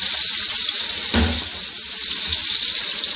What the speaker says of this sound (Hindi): अब मैं इसके अंदर प्याज ऐड कर रही हूँ और प्याज़ों को हम लोग अच्छी तरह गोल्डन फ्राई करेंगे